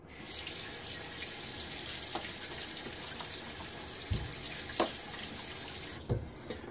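Cool hard tap water runs steadily from a bathroom faucet into a sink during a wet shave, a continuous close hiss with a few brief splashes and knocks.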